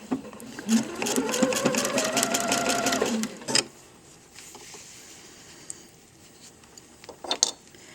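A sewing machine stitches a straight seam through PUL fabric in a rapid, steady run of close, loud needle clatter for about three seconds, followed by quieter handling clicks and fabric rustle.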